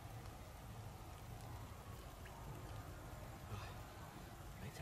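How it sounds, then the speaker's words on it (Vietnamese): Rain falls steadily at dusk during an outing fishing for eels in Vietnam, a continuous soft hiss of drops on surfaces with no breaks across the whole stretch. "Ui đang mưa này."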